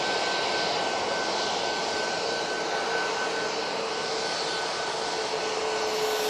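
Ryanair airliner engines roar steadily at Manchester Airport, a loud continuous broadband jet rumble with a faint whine, with no voices over it.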